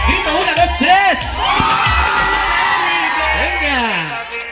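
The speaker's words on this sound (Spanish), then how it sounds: "Esta noche yo quiero escuchar bien fuerte el grito para Marely" At a quinceañera party, a crowd shouts and cheers loudly on a count, with overlapping yells, whoops and children's voices, close and sustained.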